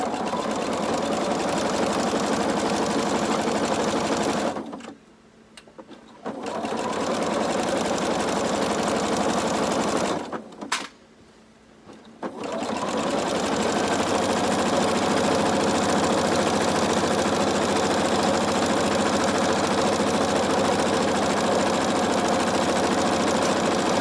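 Sewing machine running steadily as it stitches fabric for a maxi skirt, a continuous close motor whir with two brief pauses where the needle stops, then resumes.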